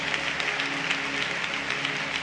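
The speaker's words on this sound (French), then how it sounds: "un bel applaudissement" Applause at a worship gathering, a dense steady patter of many hands clapping together at moderate loudness for the whole couple of seconds.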